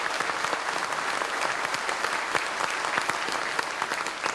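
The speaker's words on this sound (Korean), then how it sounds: "그래서 여기서 박수 한번 받아주고" A large audience applauds at a political party founding convention speech in Korea, producing dense, sustained clapping that fills the whole stretch at an even, loud level.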